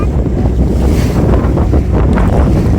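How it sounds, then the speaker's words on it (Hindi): Sea waves surging steadily, heard from a boat out on open water, with heavy wind buffeting the microphone throughout and a constant loud wash of surf. "ये समंदर है।"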